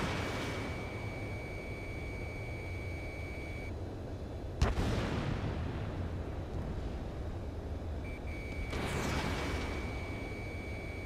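Missiles launch in Ace Combat 7 with roaring bursts and a sharp crack midway, each swelling then fading over a steady engine rumble, while a thin electronic warning tone comes and goes.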